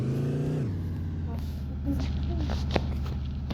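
A car engine in the Chicken Gun video game hums steadily with a gear-shift pitch drop early on, then keeps droning at moderate loudness under faint background noises.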